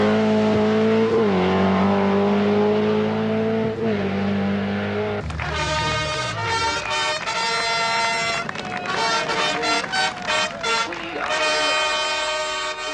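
Rally cars roar along a tarmac stage of the 1982 Lombard RAC Rally, engines revving loudly as they rise and fall with gear changes, close and powerful, mixed with commentary.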